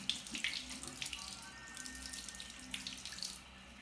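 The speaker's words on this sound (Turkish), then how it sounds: "Evet çok hızlı bir şekilde yıkıyorum." Tap water runs steadily into a sink while someone splashes it onto their face during a skincare routine, a soft, continuous trickle with small splashes, fairly faint and close.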